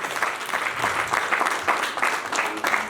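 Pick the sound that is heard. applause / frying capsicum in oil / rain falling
applause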